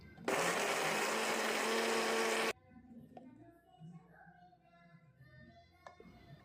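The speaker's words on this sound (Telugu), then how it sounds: "ఇప్పుడు మిక్సీ జార్ తీసుకొని ఈ మొత్తాన్ని మిక్సీ జార్లో వేసేసుకొని పచ్చగా మిక్సీ పట్టుకోవాలి" A kitchen mixer grinder blends a green tomato chutney in a short, loud whirring burst of about two seconds, then cuts off abruptly, leaving faint kitchen sounds and small clinks.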